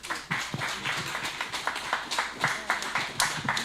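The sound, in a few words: round of applause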